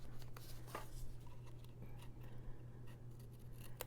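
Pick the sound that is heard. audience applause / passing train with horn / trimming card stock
trimming card stock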